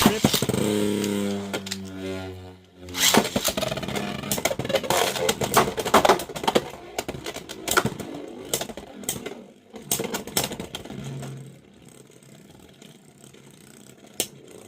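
Beyblade X battle tops, including Reaper Incendio T 4-70K, whirring and clattering in a stadium after a launch countdown, with dense rattling impacts fading as the tops lose spin toward the end.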